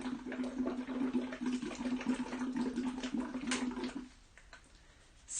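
Bubbles are blown through a straw into water in a kitchen, a steady gurgling burble that runs for about four seconds, then stops abruptly, leaving near silence.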